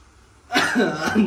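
A sudden, close cough from pungent spice fumes bursts out after a short quiet moment, rough and throaty, trailing into throat-clearing sounds.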